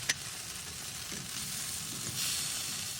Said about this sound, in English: Now that I'm getting the sear on it, we got to monitor it, make sure it doesn't burn.